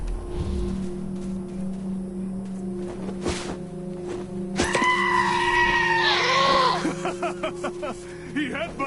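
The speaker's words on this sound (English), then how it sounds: "I just wanted the goat to hit you in the ass." A goat in the Wasteland 2 video game bleats loudly and screams after headbutting the player, with game sound effects and a few thuds, and character voices talking around it.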